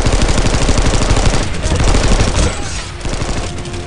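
Rapid sniper and automatic gunfire from an infantry battle in the sci-fi shooter Planetside 2, a dense, loud barrage of overlapping shots with no pause, easing slightly toward the end.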